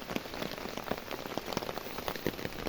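Steady rain pours down on a surface in a sudden shower, with dense pattering drops and scattered louder splats throughout, no voices present.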